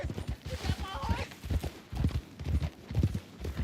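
Horse hooves clip-clopping steadily in Red Dead Redemption 2, a regular close rhythm of hoof strikes over a low rumbling backdrop, with no speech over the steps.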